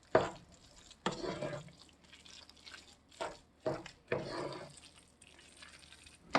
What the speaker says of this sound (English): Put your cheese in there and stir it up.